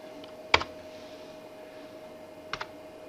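Two brief, close keystrokes on a computer keyboard while working in Photoshop, a sharp click early and a double tap near the end over a quiet room hum.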